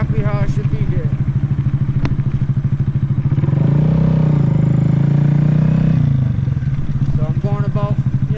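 A Honda Grom motorcycle engine runs steadily close by, climbing into a sustained loud rev in the middle as the clutch is popped for a wheelie, then easing back down, with a brief clatter early on.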